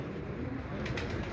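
Pigeons coo softly on an Islamabad rooftop, low and faint under a broad wash of outdoor noise and rumble.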